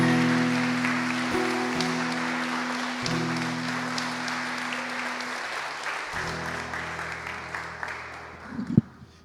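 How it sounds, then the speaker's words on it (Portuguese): A church congregation claps steadily at a celebration service while sustained organ or keyboard chords sound underneath, and the applause tapers off toward the end. "Pode aplaudir o Senhor, Ele é digno"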